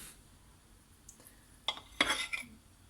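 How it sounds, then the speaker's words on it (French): A kitchen knife cuts rounds on a cutting board with a few faint, sharp clicks and taps in quick succession, close and quiet, with no talking. "on récupère ici un couteau et on va se couper. Vous voyez bien les amis? Hop là, on va se couper des rondelles"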